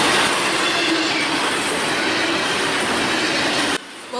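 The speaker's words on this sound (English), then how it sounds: "This is NS 224, daily intermodal and auto rack traffic out of Atlanta, Georgia, bound for Kansas City, Missouri." Norfolk Southern's NS 224 intermodal and auto rack freight train, running from Atlanta toward Kansas City, rolls past close by with a loud, steady roar of wheels and squealing rails that cuts off abruptly near the end.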